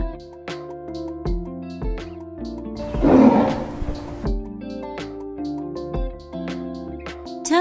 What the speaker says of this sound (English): Cheetah.